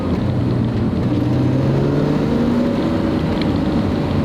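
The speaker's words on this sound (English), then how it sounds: "The engine actually pulls pretty well." A BMW E46 M3 engine drones and pulls steadily under acceleration while driving, its rising tone carried over a loud, constant rumble of road and cabin noise with an alarming vibration from underneath, no speech heard.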